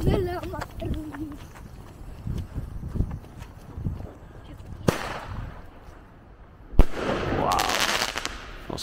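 Fireworks from a Big Bang Boom Pack go off in sharp explosive bangs, scattered pops followed by two loud bursts with crackling tails, while people talk between them.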